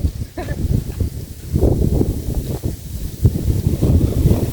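Wind buffets the microphone outdoors in continuous rough gusts, rising and falling in strength throughout.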